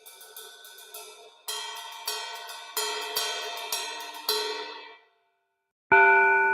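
The bell of a Meinl Vintage Pure 20-inch ride cymbal is struck about six times in a steady rhythm. Each bright, ringing ping sustains, then one louder, sharper hit comes after a brief silence.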